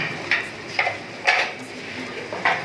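A spoon stirring a thick spice paste with chaat masala in a bowl, four light, evenly spaced clinks and scrapes close by.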